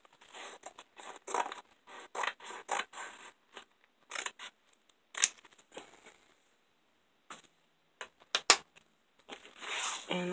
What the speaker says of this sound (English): And I always trim the side.